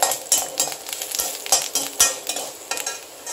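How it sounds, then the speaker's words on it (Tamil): Cloves, cinnamon, fennel seeds and cashews fry in a pan, a steady sizzle broken by repeated scraping stirs and light utensil knocks, close and fairly loud with no talking. "இப்போ கிராம்பு, பட்டை, சோம்பு இந்த போட்டு, முந்திரி அதுவும் போட்டால் போட்டு கொஞ்ச நேரம் வறுக்கணும்"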